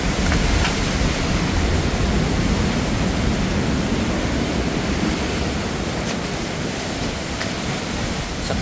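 Strong ocean waves surging as rising water pushes toward shore, a loud continuous roar of surf with churning rumble and hiss throughout, no voices.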